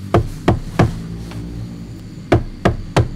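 Knocking on a hard surface imitates someone rapping on a door late at night: two groups of three sharp, close, loud raps with a short pause between the groups and no voices.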